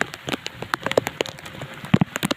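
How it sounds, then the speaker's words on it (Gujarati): Rain falls steadily on a cotton field during farm work, with scattered close drops tapping and pattering in an uneven rhythm and a few heavier splats standing out. "અત્યારે વરસાદ જો ચાલુ છે"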